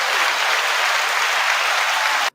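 An applause sound effect played during a live stream: a dense burst of clapping from a crowd, loud and continuous, which cuts off abruptly at the end.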